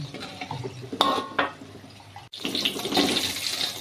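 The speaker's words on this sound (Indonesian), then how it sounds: "Ini kita goreng sampai berwarna kuning kecoklatan" Peanut-filled wonton dumplings fry in hot oil, giving a steady crackling sizzle with a few clinks partway through, then a louder, busier burst of bubbling after a brief break, and no one talking.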